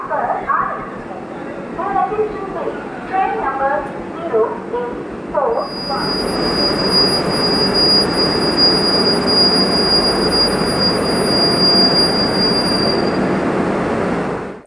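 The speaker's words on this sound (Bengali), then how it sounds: "আর এদিকে হামসফরও ঢুকলো" Humsafar Express pulls into a station, its wheels rumbling loudly and squealing in a long high whine, while voices chatter nearby before the train's roar takes over.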